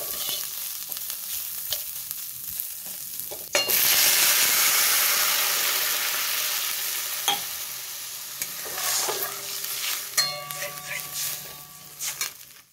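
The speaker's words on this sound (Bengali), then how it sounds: "ডালটা আমি ধুয়ে নিয়েছি, ধোয়ার পরেই তেলে ভেজে নিচ্ছি" Washed lentils frying in hot oil give a loud sudden sizzle that starts a few seconds in and stays strong, then eases, with stirring scrapes and clinks and a few light kitchen knocks near the end.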